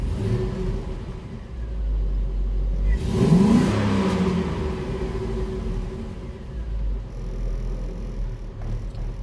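A Chevrolet S10 pickup engine idles, then revs up in one rising, roaring burst and settles back to a steady idle, loud and close.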